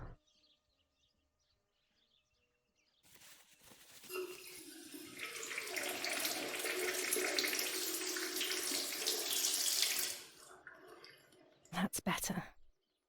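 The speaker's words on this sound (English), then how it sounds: "But first, let me take a shower." Shower water running in the horror game Martha Is Dead: a dense hiss that starts after a quiet lead-in, holds steady for several seconds, then cuts off, followed by a few brief knocks.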